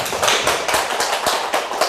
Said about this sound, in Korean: 박수 한번 쳐주시고